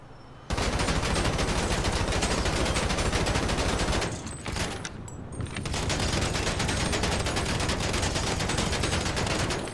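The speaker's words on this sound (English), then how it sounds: "You just need to shoot the center, or like just underneath the center." Dense, sustained automatic gunfire in GTA 5, aimed at a Benefactor Schafter car, bursts roaring almost continuously with a brief lull midway before the rapid shots resume at full loudness.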